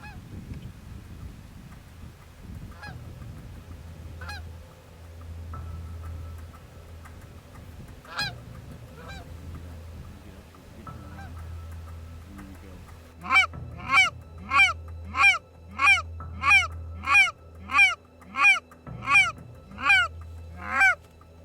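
Canada geese honk, a few scattered calls at first, then a loud, regular run of about a dozen honks close together near the end, over a low background rumble.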